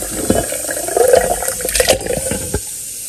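Water poured onto tomato, onion and garlic in a blender jar, a close splashing and gurgling pour with a few bumps and clinks, lasting about two and a half seconds before cutting off.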